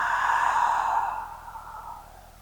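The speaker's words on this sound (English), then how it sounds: "Inhale, fill all the way up. Feel your rib cage expand. Fill your lungs all the way. And then exhale, let it go." A single deep, slow exhale after a full inhale during a yoga flow, a soft breathy sigh that is close and clear at first, then tapers off over about two seconds.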